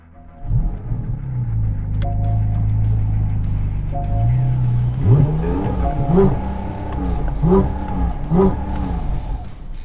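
A Porsche 718 Cayman GT4 RS engine idles low, then revs hard in several sharp bursts limited to 4,000 rpm while stationary, each rising and falling back, loud and close.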